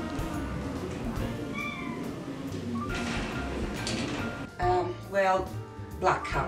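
A black cat meows several times, drawn-out and plaintive, close by, with a voice speaking in the background.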